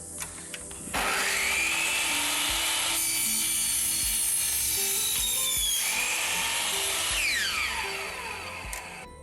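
A hand cutter saws through a metal cassette part, a loud, continuous rasping grind of close-up cutting with a shifting pitch that runs almost the whole time before easing off at the end.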